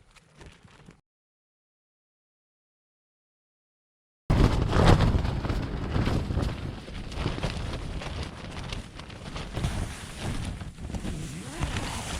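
Strong night wind at a wild camp in the Shropshire hills buffets the microphone in continuous rough gusts after a brief quiet stretch, roaring and rumbling with no speech.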